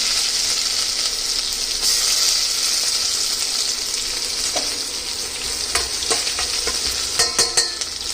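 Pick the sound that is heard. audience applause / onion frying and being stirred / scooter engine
onion frying and being stirred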